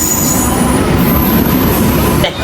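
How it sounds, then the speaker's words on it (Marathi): A train pulling in at Dadri station, with loud, steady rumbling wheels and rail noise close by and a high squeal running over it before it quickly fades. "ट्रेन आलेली आहे."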